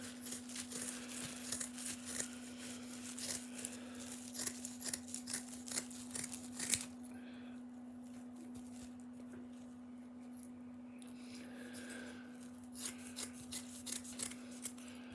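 Scissors snipping patch material for repairing a hole in a van, a series of close, quiet crisp cuts and rustles followed by softer handling of the material.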